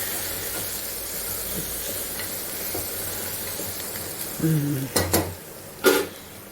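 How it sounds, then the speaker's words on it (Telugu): Drumstick tomato rasam stirred in a pot over a low background hiss, with a few sharp clinks of a utensil against the pot near the end. "ఇప్పుడు కలుపుకుందాం ఒకసారి మనం"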